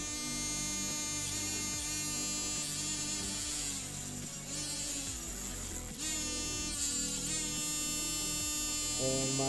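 A desk vacuum cleaner drones steadily with a buzzing, harmonic-rich motor whine, loud and close throughout, with a few pitch dips and swells as it strains, running alone with no talk.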